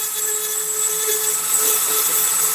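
A rotary carving tool fitted with a small ball burr whines steadily at high speed, cutting into a carving with a continuous close, fairly loud buzz that rises slightly toward the end.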